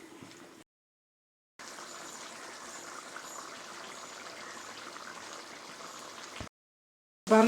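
Mutton gravy reducing in a pot gives a soft, steady bubbling hiss, cut by short silent gaps at the start and end, with a brief louder noise at the very close.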